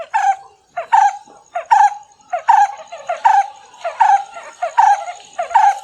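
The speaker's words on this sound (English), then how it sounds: "The brown-headed barbet sound is deeper and like a hoot." Brown-headed barbet calling in a garden: a rhythmic series of deep, hooting notes repeated about every 0.8 seconds, fairly loud and close, with no talking.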